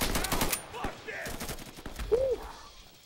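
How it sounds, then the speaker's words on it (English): Enemy gunfire in the co-op shooter Insurgency: a series of sharp automatic bursts rattles out, loudest at the start and then thinning to scattered shots, with faint voices and game sounds between them. "They love shooting at me for some reason."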